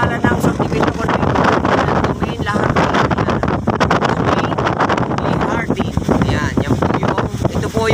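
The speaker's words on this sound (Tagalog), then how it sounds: "talagang malakas po ang hangin" Strong wind buffets the microphone in continuous loud roaring gusts on a hillside lookout in Laurel, Batangas, facing Taal Volcano, while a voice speaks underneath.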